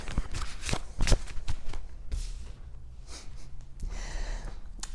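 A deck of tarot cards is shuffled by hand in quick riffling bursts and sharp snaps, close up. Quieter rustling follows, and no one speaks.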